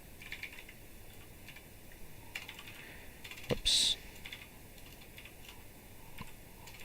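Soft, rapid keystrokes tapping on a computer keyboard, with a brief spoken exclamation in the middle.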